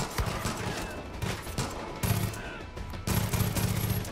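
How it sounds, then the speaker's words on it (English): Powerful guns in the video game Far Cry 5 fire in rapid, loud, close bursts, with several volleys following one another over a few seconds. "these are powerful guns"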